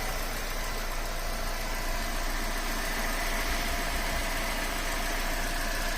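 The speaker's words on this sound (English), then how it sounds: "I'm letting the engine warm up for 5 or 10 minutes" A Mercedes engine idles steadily while warming up, a constant mid-pitched hum with faint knocking vibration, close and continuous with no talk.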